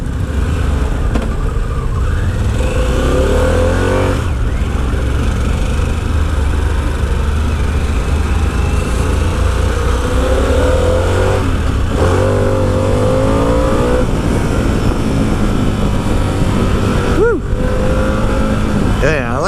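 2025 Harley-Davidson Pan America ST motorcycle engine pulling through the gears, a loud continuous rumble with rising pitch sweeps and shifts, while a rider talks over it.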